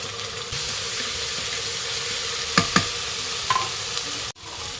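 Spices with salt and Everest Shahi biryani powder fry for biryani in a robo cooker: a steady close sizzle runs throughout, broken by a few brief scraping stirs, with no talking.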